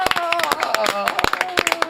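A talk-show studio audience claps to welcome a guest, with brisk sharp claps over music and voices.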